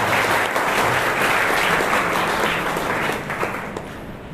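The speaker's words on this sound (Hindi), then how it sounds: "ताली बजाकर आप लोगों का स्वागत करें" Audience applause at a Matri Bharati formation event, a dense sustained clapping from a crowd that fills the whole stretch and tapers slightly toward the end.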